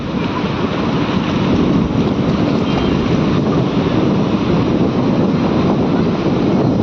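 Sea waves rushing onto a beach as the tide rises, a loud continuous roar of surf mixed with wind buffeting the microphone, with no pauses.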